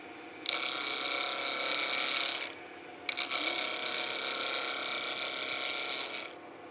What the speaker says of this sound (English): Just heard the sound, the pitch change on my revolving center.